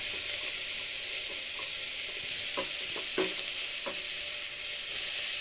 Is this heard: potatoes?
yes